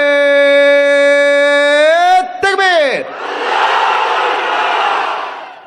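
Crowd of single men at a religious sermon gathering shouting the takbir in unison: a loud sustained chorus of voices holding a chant, breaking off, then dissolving into broad roaring crowd noise.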